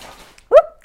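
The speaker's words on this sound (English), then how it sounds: "if you just heard that, that was my dog Maybelline" A French Bulldog gives one short, sharp bark close by in a quiet room, then a second brief yelp begins just before the end.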